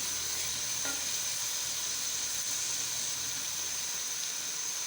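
Oil hissing and sizzling steadily in a hot pan while cooking carrot halwa, a constant fairly quiet frying sizzle with one faint brief clink, no voices.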